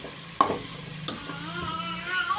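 Chili powder and masala being stirred into hot oil for egg biryani, a spoon scraping and clinking against the pan twice over a soft sizzle.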